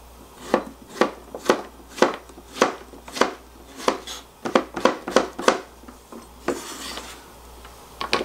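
A knife slices zucchini on a cutting board for Korean cheonggukjang stew, making a steady series of about fifteen crisp chops close by, evenly paced with brief pauses, and no talking.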